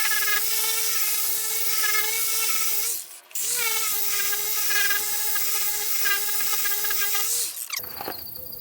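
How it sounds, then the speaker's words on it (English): Power polisher fitted with a microfiber wheel buffing a faded car hood, a high steady whine with a brief drop-out near the middle and another cut near the end, close and loud. "This is a microfiber wheel, and this seems to work pretty good on this"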